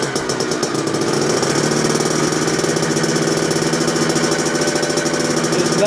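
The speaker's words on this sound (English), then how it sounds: "That's called idling, so just let it idle." A dirt bike engine idles steadily by itself during a wrenching session, a continuous mid-pitched rumble with rapid pulsing and no talk over it.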